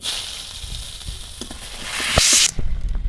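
Chopped onion dropped into hot oil already holding black cumin, dried chilli and a bay leaf, giving a soft sizzle with scattered clicks that swells into a loud hiss near the end.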